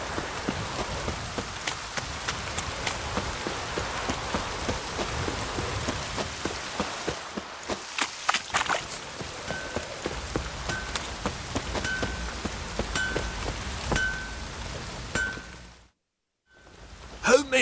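Steady rain patter in The Witcher 3: Wild Hunt, with rhythmic soft thumps like footsteps, faint tonal blips, then a brief drop to near silence before a louder burst at the end.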